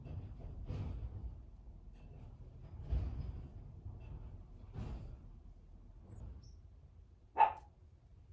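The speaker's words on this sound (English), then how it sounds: "There are birds and puppies outside and garbage trucks." Dogs barking outdoors, several separate bark bursts spaced a second or two apart at moderate distance, with a sharper, louder yelp near the end over low background rumble.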